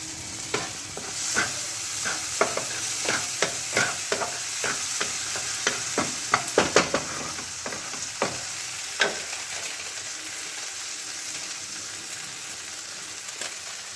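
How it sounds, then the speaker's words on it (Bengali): Spice paste for paneer butter masala sizzling in a pan while a spoon stirs and scrapes through it in irregular clinks and scuffs, steady frying hiss underneath throughout. "এটাকে একটু ভালো করে নেড়ে নেব। মশলাটা আমার কষানো হয়ে গেছে।"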